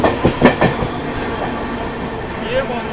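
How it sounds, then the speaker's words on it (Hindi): An approaching train rumbles steadily from the front, heard from on board an express, with a few rhythmic clacks early on and a faint wheel squeal near the end. "ये सामने से ट्रेन आ रही है भाई।"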